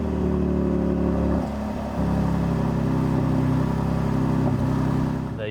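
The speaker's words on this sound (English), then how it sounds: "you push the button and immediately hold one of the paddles and you'll get a louder startup" A 2020 Mercedes-AMG GLC 43 fires up with its louder Emotion Start, the engine catching in a loud rumble, briefly dipping, then settling into a steady, close idle with no talk.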